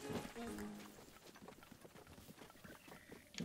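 Horse hooves clop at a steady trot in The Legend of Zelda: Breath of the Wild, faint and rhythmic under someone talking over the game.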